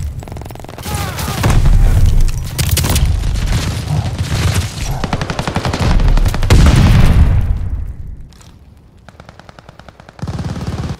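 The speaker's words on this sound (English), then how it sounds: "Grenade!" A grenade blast in the Call of Duty: Vanguard video game lands amid heavy machine-gun and rifle fire. Loud booming bursts and rapid shots fill the first eight seconds, then thin out before another burst at the end.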